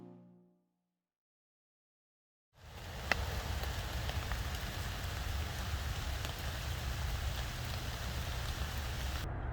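Rain starts abruptly after a silent gap and then falls steadily on a stealth campsite in a bog beside an expressway, an even, close hiss with one sharp drip-like tap early on.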